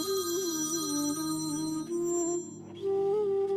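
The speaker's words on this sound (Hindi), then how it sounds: "ये देख, वकील साहब का फोन भी आ गया।" A phone rings in a home with a melodic electronic ringtone, steady and fairly close, playing continuously with a brief dip partway before resuming.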